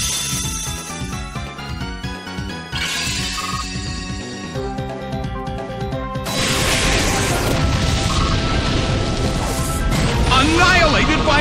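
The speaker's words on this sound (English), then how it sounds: "Explosion!" The Explosion move in Pokémon Battle Revolution lands as a loud, broad blast of noise that swells into a sustained roaring crash in the second half, with an excited announcer's voice and game sounds behind it.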